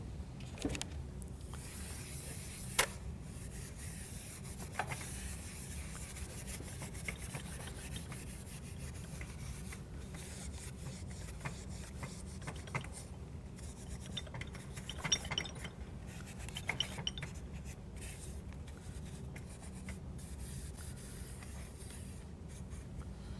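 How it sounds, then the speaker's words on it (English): Steel wool is rubbed over a finished tin cross, giving a continuous scratchy scrubbing texture with occasional light metallic clinks and ticks. The sound is close, quiet, and steady with no voices. "Now, what we're going to do is take some steel wool and just clean this up a bit"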